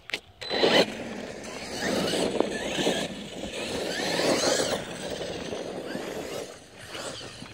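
An ARRMA Kraton RC car on backflip tires drives and wheelies nearby, its electric motor whining and squealing in rising and falling bursts with tire scrabble throughout.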